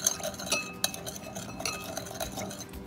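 A spoon mixes coleslaw seasoning of black pepper and Maggi seasoning in a bowl, giving quick metallic clinks and light scraping, close and fairly quiet.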